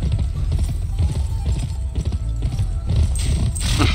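A pony gallops in the PS2 video game GUN, its hooves giving a fast, steady, loud clip-clop that runs throughout.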